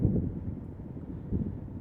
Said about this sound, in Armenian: բայց մի փոքր քամին կա